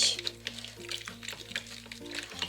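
Water being stirred into a slime mixture in a large bucket, giving repeated wet scraping and sloshing strokes over a steady low hum, with a little talk in between.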